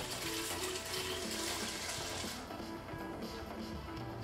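Three cups of water poured into an Instant Pot over dry macaroni: a steady, loud gushing splash for about two and a half seconds that then settles into a quieter trickle.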